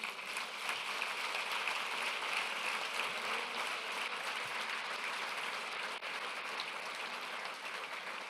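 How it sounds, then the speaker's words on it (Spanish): Steady applause from a church congregation, a dense wash of clapping that holds evenly for several seconds at a moderate distance. "Denle un aplauso al Señor."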